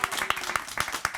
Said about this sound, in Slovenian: Lep aplavz